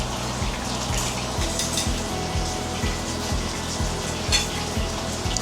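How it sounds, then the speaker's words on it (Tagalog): Food frying and sizzling loudly in a pan, a steady close hiss with a regular pulse of low thumps running under it throughout. "Prito pa lang yan."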